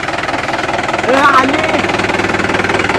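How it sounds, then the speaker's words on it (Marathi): A tractor engine idles with a steady, rapid chugging throb, and a brief voice cuts in midway. "दादाचा ट्रॅक्टर आला"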